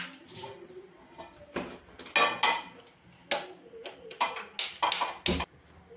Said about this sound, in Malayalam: ദോശ ഉണ്ടാക്കാൻ ദോശത്തട്ട് എടുത്ത് വെക്കുകയാണ്